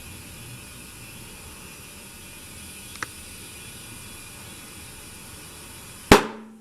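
A tire bead on an aftermarket Ducati motorcycle rim pops onto the rim during inflation, one sharp, loud bang near the end after a steady hiss of air and a faint earlier tick.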